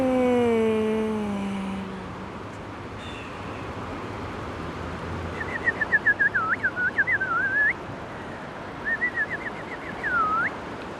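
A person whistles bird-like chirps and warbles, first a few long descending tones, then bursts of quick trilled twitters imitating little birds, close and clear over a quiet background.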